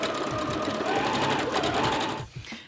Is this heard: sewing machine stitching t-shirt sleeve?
yes